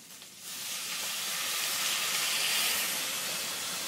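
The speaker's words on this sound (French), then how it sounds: "don't burn yourself in the steam or anything" Loud, steady steam hiss and sizzle rising from water poured into a hot jambalaya pot with meat stuck to the bottom, swelling after a brief softer start and holding strong, close up, with no talking.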